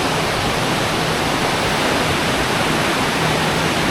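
Reservoir water released through an opened dam shutter after power generation rushes over rocks in a forested spot near Thiruvananthapuram, a loud, unbroken roar that fills the whole sound with no voices.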